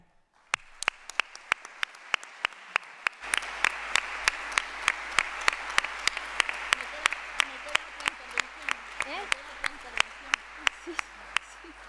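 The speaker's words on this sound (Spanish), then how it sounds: "lo de aplaudir ahora era para que nos espabilemos todos" An indoor audience at a conference welcome applauds in a regular, rhythmic clap that starts sparse and swells as more people join, steady and sustained throughout with a low hum underneath.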